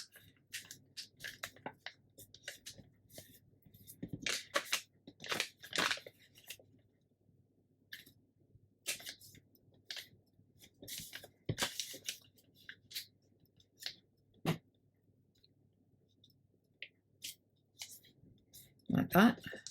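Sheets of paper are folded and creased by hand for a handmade notebook, making soft intermittent rustles and scraping crinkles in short bursts separated by quiet pauses, close up.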